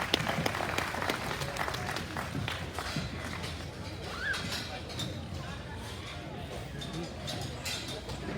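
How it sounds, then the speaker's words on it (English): Applause from the audience at a junior pedigreed Berkshire gilt livestock show, a steady wash of clapping sustained throughout with crowd noise mixed in. "Let's congratulate them all with a big round of applause."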